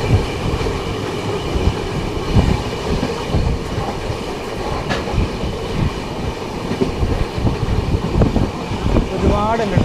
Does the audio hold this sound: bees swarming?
no